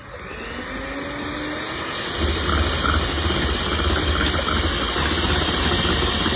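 An electric mixer whisks Swiss meringue buttercream in a bowl set on a tea towel after coming off the heat, giving a steady motor whir that grows louder after about two seconds and continues evenly with no talking.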